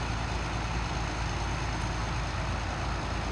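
Harvest machinery, a combine or tractor heading out to the fields at the start of harvest, rumbles past as a steady, loud low engine drone with broad road noise, no voices over it.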